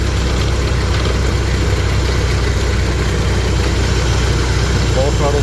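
A 1914 Ford Model T engine idles steadily at close range, a continuous low rumble with a faint rattle as the throttle is adjusted, running without pause.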